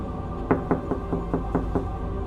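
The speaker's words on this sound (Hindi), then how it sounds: "कुछ देर बाद फिर से दरवाजा खटखटाने की जोर से आवाज आती है।" Seven sharp knocks on a wooden door in a steady, evenly spaced run, fairly close, over a low background hum.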